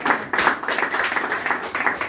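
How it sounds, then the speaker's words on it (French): Restaurant diners clap for the evening's performing artists, a short burst of scattered, fairly close hand claps with uneven rhythm. "qu'on peut encore applaudir encore une fois."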